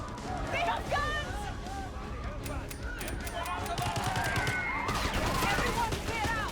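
Heavy gunfire bursts in Call of Duty Black Ops 6 rattle continuously through a busy combat mix, with shouting voices and chaotic scuffling layered under dense, loud shots.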